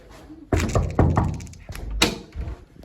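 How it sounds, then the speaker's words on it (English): Several sharp knocks on a door, loud and close, in an irregular pattern of a few single and grouped raps, with no one talking. "So I'll go and knock on the door."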